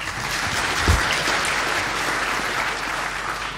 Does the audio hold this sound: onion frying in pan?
no